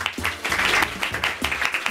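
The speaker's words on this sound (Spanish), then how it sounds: "Un aplauso para ella." Audience applause welcoming a producer at a Spanish-language gathering in support of earthquake-affected colleagues, a short burst of mid-level clapping with a voice faintly underneath.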